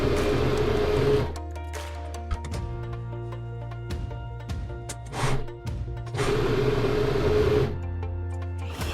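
Sewing machine stitching across a fabric seam with a stretch stitch, a steady mechanical whirr in two bursts separated by a quieter pause with light handling noises.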